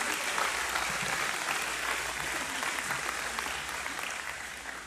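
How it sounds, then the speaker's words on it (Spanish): A church congregation applauding during a service, a steady, dense wash of clapping from many people that holds evenly throughout. "Dale un aplauso fuerte al Señor en esta hora."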